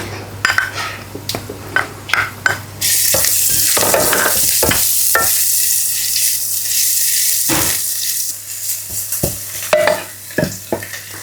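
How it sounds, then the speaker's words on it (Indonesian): Spice paste for sayur lodeh sizzles and fries in a pan on the stove, a loud steady hiss broken by repeated clinks and scrapes of a utensil stirring against the pan. "Kita tumis dulu bumbunya."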